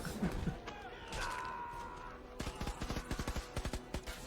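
Rapid bursts of automatic gunfire from the Batman v Superman warehouse fight scene crack out in a fast string of sharp shots through the second half, after a murky stretch of film ambience and muffled voices.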